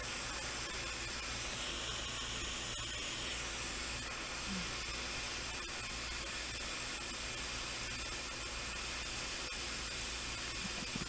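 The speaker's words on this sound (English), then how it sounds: "We have our hot air station set to 400 degrees or 430 degrees." A hot air rework station set to around 400 to 430 degrees blows a steady, broadband hiss on a small precision tip while desoldering from a MacBook Air board, constant and fairly faint throughout with no talk.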